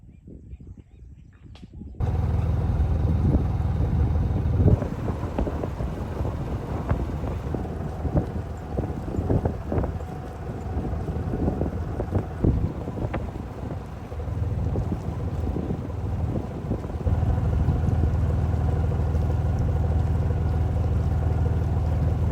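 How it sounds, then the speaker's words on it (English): A sailboat moving upriver on the Gambia River in a steady breeze, with continuous rushing wind buffeting the microphone and water wash throughout, loud and close. "we're sailing upriver. I got a good breeze today"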